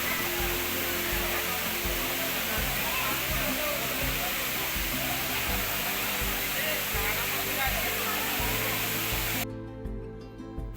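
Anachadikuthu waterfall in Idukki roars as a loud, continuous rush of falling water close by, with a steady low rumble underneath that cuts off sharply near the end.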